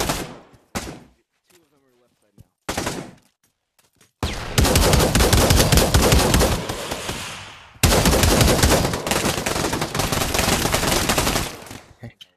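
Gunfire in the VR shooter Pavlov on a shack map, with a few isolated shots first and then long, loud bursts of rapid automatic fire that run for several seconds each, nearby and dominating the mix.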